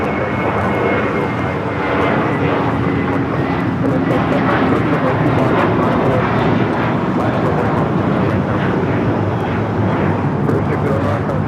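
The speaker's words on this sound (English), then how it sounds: "609 taking off to Houston Intercontinental on the A321" Spirit Airlines Airbus A321, flight 609 to Houston Intercontinental, taking off at LAX, a loud, steady jet engine roar that fills the whole stretch without letup.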